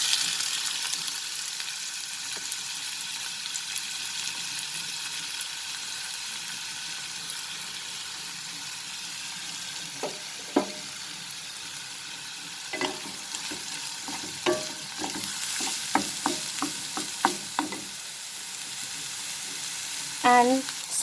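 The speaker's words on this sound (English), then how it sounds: "saute them for near about half a minute so that the rawness of the onion goes away" Chopped onions sauté in two tablespoons of hot oil, a steady broad sizzle running throughout, with intermittent scraping and clacking of a stirring utensil against the pan growing more frequent in the second half.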